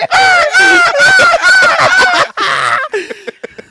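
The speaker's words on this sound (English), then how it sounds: "I think the funniest part is the seagulls you hear in the" Seagull cries from a played video clip, a run of loud, harmonic honking calls repeating close together, followed by a shorter burst and scattered fainter squawks toward the end.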